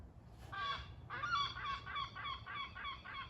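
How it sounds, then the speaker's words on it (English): A large bird calls loudly nearby, a short cry followed by a run of repeated harsh, honking squawks. "loud seagull"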